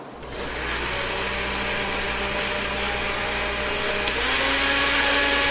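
A blender making a smoothie whirs steadily and loudly after a brief start, its motor droning continuously with a constant high whine.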